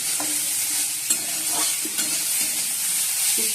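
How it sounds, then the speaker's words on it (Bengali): Onions are added to a hot frying pan and stirred, giving a loud, continuous close sizzle broken by repeated scraping strokes of the spoon, with no voices. "চলো এই অন্য পেঁয়াজ দিয়ে দিচ্ছি"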